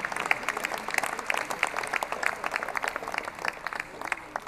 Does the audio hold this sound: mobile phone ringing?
no